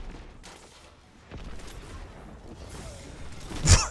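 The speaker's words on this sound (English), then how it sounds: "Oh, I have a rocket gun." Rocket gun firing in a video game, a series of muffled blasts and mechanical thuds building to one loud sharp explosion near the end.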